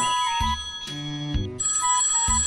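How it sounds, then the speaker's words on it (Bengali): A cartoon telephone rings in repeated electronic trilling bursts, several rings in a row with short gaps, clear and close with no voices over it. "ফোন করেই যাচ্ছে"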